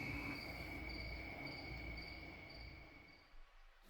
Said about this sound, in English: the crickets, well, they sang a summertime lullaby